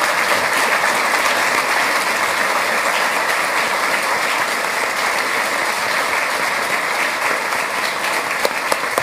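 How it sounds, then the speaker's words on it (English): An audience at a medical research prize panel discussion gives a long, steady round of applause, dense clapping from a large crowd holding an even level throughout. "So please, let's give them another round of applause."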